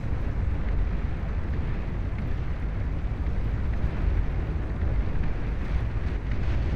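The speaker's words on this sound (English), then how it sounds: "The orbital launchers firing away here" Orbital launchers and capital ships fire in the space strategy game Beyond All Reason, making a dense, continuous booming rumble like ongoing explosions that stays loud and unbroken throughout.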